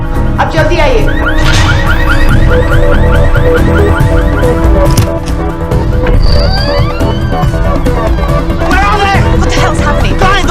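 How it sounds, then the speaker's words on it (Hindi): A green Volkswagen car alarm wails in repeated rising and falling electronic sweeps, loud and continuous, with a dense background soundscape layered underneath. "वो गाड़ी का अलार्म बज रहा है"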